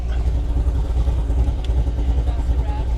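A Corvette C6 Z06 LS7 engine idles unevenly with a choppy cam, a loping low throb, steady and close, with faint clatter on top.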